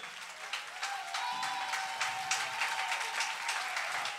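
A church congregation applauds during a Sunday service, giving a steady, dense patter of many hands clapping at moderate distance, fairly soft, with a faint held tone running underneath.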